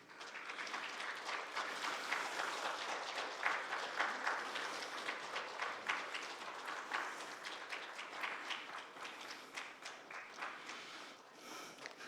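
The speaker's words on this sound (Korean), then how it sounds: "이제 우리 각 구역에서 축하 꽃다발을 전달할 때 우리 다시 한번 박수 힘차게 쳐주시기 바랍니다" A church congregation applauds during a Sunday worship service as flowers are presented, a steady wash of many hands clapping that swells and slowly fades over about twelve seconds in a large room.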